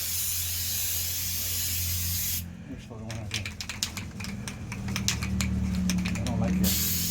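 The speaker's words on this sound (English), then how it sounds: "We are spraying" Spray painting metal truck rock sliders: a constant spray hiss cuts out, then a spray can rattles and clicks in irregular bursts before a steady hiss resumes, close by.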